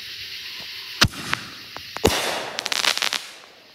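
A Black Cat firecracker shell from a Lock and Load kit goes off outdoors: two sharp loud bangs, then a rapid crackling burst of small pops, close and loud.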